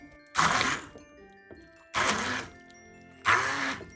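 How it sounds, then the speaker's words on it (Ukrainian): An immersion blender purees soaked prunes in three loud whirring bursts, each grinding for about half a second to a second with quieter pauses between, close and without talk. "Та за допомогою занурювального блендера подрібнюємо."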